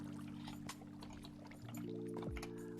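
Water pours in the Minecraft video game: a short, steady splashing pour over a low droning hum, ending with a quick downward swoop.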